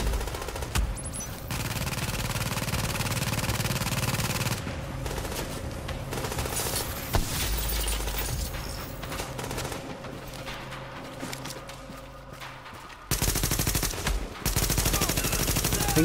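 Sustained automatic gunfire from a firefight in Tom Clancy's The Division, dense rapid bursts of shots running almost continuously with a brief lull near the end before firing resumes loudly.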